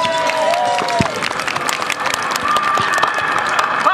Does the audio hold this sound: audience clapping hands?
yes